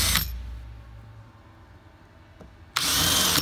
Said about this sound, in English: Now let me put a couple of screws in.